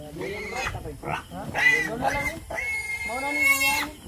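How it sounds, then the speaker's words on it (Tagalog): A pig grunts and squeals in rapid, loud bursts in a rural Filipino farm setting, close by and overlapping, with a person calling out between the animal sounds. "Baboy. Baboy."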